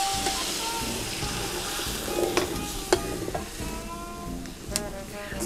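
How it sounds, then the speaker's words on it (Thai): Pork being stir-fried in a pan over medium-low heat, a steady close sizzle with repeated scraping and clinks of a spatula against the pan. "ค่อยๆคั่วค่อยๆผัดมันไป"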